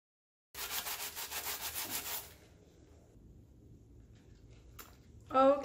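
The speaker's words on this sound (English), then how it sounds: "we're gonna go ahead and sand" Sanding a cured epoxy coat on a glitter stainless steel tumbler by hand, a loud, steady scratchy rubbing for about one and a half seconds, then a faint quiet stretch ending in a short brief noise.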